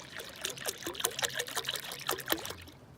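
Apple juice poured from a container into a rib brine of kosher salt and hot coffee, a close trickling, dribbling stream with gurgling pulses, steady for about three seconds before tapering off.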